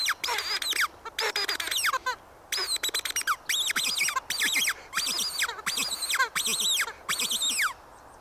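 A predator hunting call blown hard to imitate a distressed bird gives shrill, piping squeaks in rapid bursts. They repeat almost nonstop, loud and close, over a faint low background.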